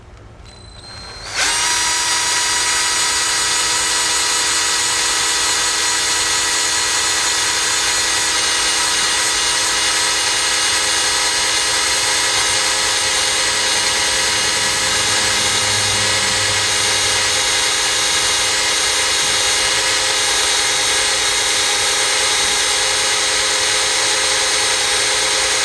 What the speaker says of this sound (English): so now I'm gonna drill a hole